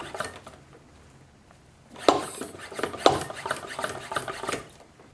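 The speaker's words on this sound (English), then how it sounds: "Now, we pump this guy up to 15 psi." Hand pump on a brake pressure bleeder for a BMW being worked up to 15 psi, heard as a few close rubbing, squeaking strokes with two sharper bursts after a quiet start, no voices.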